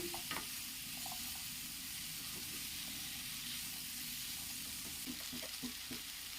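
Chopped potatoes fry in a pan with a steady, close hiss of sizzling oil, while scattered scrapes and taps from stirring break through at irregular moments.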